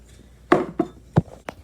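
Vegetables for a soup dropped into a pan in four separate knocks and thumps, close and distinct, with short quiet gaps between them in a kitchen.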